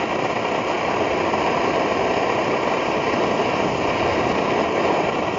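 A kerosene stove burner flame roars in a steady, dense hiss, constant and close throughout, with no voices.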